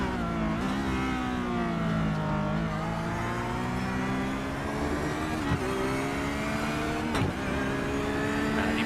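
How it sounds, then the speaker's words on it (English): A Porsche GT3 race car engine accelerates through its gears at Daytona, a steady high-revving whine climbing in pitch with sharp upshifts, heard fairly close and alone with no talk. "let's just listen to that Porsche engine"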